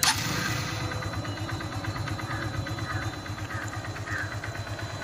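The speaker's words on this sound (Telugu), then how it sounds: "ఇంకా ఫైనల్గా అయితే ఒకసారి మీరు ఇంజిన్ బీటింగ్ అని చూసేయండి." A BS4 motorcycle engine idles steadily after a full engine repair, a close, even low-pitched beat with a constant, unchanging rhythm and no talk over it.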